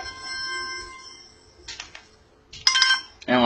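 A phone alarm goes off during a sermon on Proverbs, starting with faint steady electronic tones, then louder bursts of bright chiming rings that grow stronger toward the end, with no speech.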